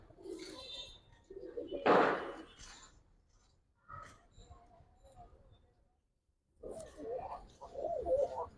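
Giribaz coloring and Pangkhi pet pigeons coo in short low bursts, with a louder flutter or knock in the middle and a pause before more cooing at the end, close by.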